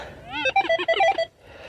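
A metal detector gives its signal tone while treasure hunting: a short run of warbling, stepped electronic beeps lasting about a second, close and clear, followed by quiet.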